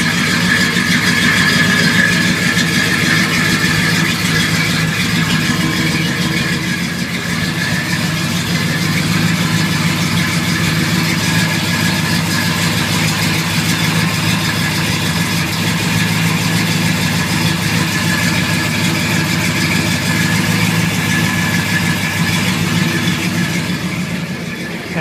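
A 1981 K10 truck with Flowmaster exhausts idles steadily, a loud, deep, even rumble with a constant drone that barely changes over the full length.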